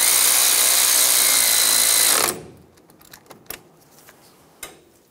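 A power tool snugging down bolts during front strut mount work on a 2005-2010 Toyota Tacoma whirs loudly and close for about two seconds, then stops, followed by scattered light metallic clicks and taps.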